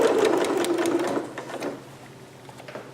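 Sewing machine stitching along a basting line in quick rhythmic bursts, close and fairly loud at first, then slowing and fading to lighter intermittent stitches.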